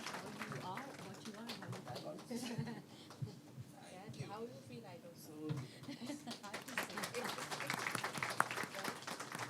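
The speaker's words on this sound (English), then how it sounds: "can we have a huge round of applause for our panelists?" Audience applause for panelists at a panel discussion on decriminalization for development, a faint, steady patter of clapping that thins in the middle and swells again toward the end, with voices talking over it.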